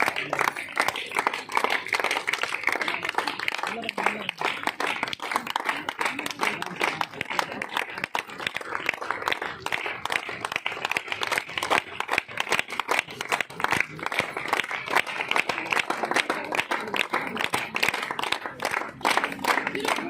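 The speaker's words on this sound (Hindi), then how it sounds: "ताली बजाते रहना।" An audience keeps clapping for a welcomed guest, a dense stream of hand claps held at an even level for twenty seconds, with faint voices underneath.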